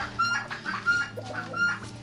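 Several hens cluck in short, irregular bursts close by in winter frost, with a steady low hum of farmyard background underneath.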